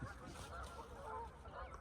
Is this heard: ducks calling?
yes